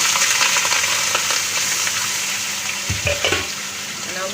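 Milk poured into hot ghee on a gas stove while making a winter sweet, giving a steady broad sizzle and bubbling with a few soft stirring knocks and a brief surge of hissing near the end.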